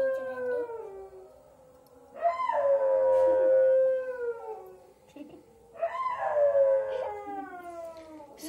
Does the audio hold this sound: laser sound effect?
no